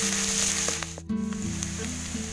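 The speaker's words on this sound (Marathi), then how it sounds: "इथे बघा तेल ठेवलंय कढईमध्ये, लसूण टाकले." Garlic cloves sizzling in hot oil in a kadhai for tempering, a soft steady hiss close by with a brief gap partway through, no talking.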